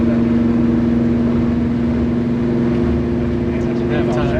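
A fuel-injected 1967 Plymouth Belvedere II with a 360 cubic inch V8 drives at steady speed, its engine drone and road rumble continuous and loud throughout, with no talk over it.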